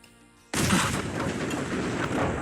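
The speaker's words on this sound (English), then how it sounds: "as long as you wear enough armor, you can survive the explosion" A loud explosion in Fallout 4 bursts in suddenly after a quiet start, a single broadband blast followed by a sustained roaring, crackling rumble that stays loud to the end.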